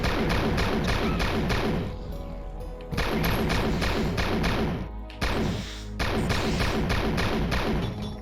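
Rapid, heavy gunfire from the retro first-person shooter Hedon Bloodrite, with bursts of loud repeated thumping shots separated by short pauses, dense and close with no talking.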